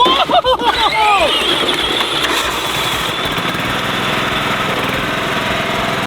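A lawnmower-engined mud tractor runs close by, its small engine putting out a steady, loud chugging drone on a farm, with a voice briefly heard at the start.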